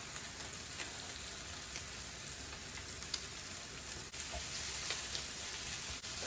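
Salted mushrooms frying in a pan give off a soft, continuous sizzle and crackle, fairly quiet and steady, with no voices.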